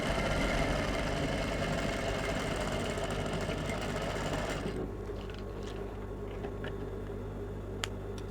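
An electric sewing machine stitching a simple crop top, a steady fast whirring hum running for several seconds, then stopping abruptly into quiet with small clicks.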